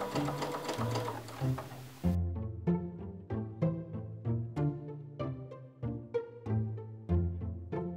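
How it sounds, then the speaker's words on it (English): A domestic sewing machine runs in short, rhythmic bursts of needle stitching, close and clear with brief pauses between runs, as it joins the outer layer of a brown dress to its lining. "I then sewed the outer layer and the lining together"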